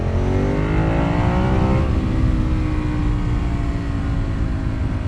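A 160-horsepower motorcycle accelerates hard through the gears on a twisty road, its engine note rising steadily, dropping briefly at a shift, then climbing again, loud and close over continuous wind roar.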